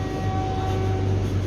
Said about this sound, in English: And the train and the service is departing.